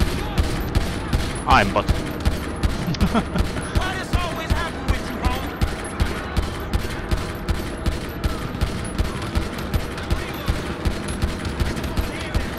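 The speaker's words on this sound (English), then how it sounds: "Why is he shooting at me?" Rapid automatic gunfire in GTA V with the chaos mod on, a steady rhythmic burst of shots running unbroken through the whole stretch, loud and close, with brief voices and game effects underneath.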